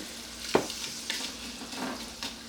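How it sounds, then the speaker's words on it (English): Leftover holiday vegetables, seasoned with salt and pepper, sauté in a pan with a soft, even sizzle broken by a few quick spoon scrapes and stirs. "I want to saute the vegetables and get them nice and soft before we add the garlic"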